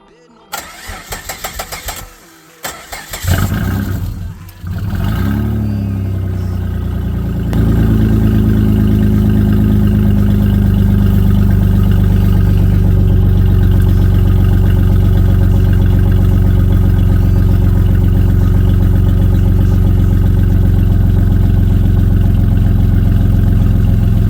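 A 1999 Dodge Avenger with a newly installed exhaust cranks over a few times, catches and starts, then settles into a loud, steady, deep idle that holds close by with no talk over it.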